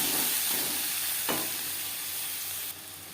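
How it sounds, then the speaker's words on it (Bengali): Chopped tomatoes hit hot oil already spiced with panch phoron and dried red chillies, giving a loud, steady broadband sizzle that fades slightly near the end, with a brief stir scrape partway through. "পাঁচ ফোড়ন শুকনো লঙ্কা ভেজে নেওয়ার পর দিয়ে দেব টমেটো"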